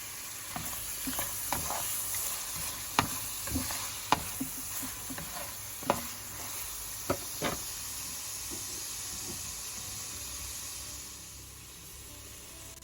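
Pork sizzling and frying over moderate heat in a pan with onion, with scattered scraping and clacking stirring strokes over a steady sizzle that eases toward the end.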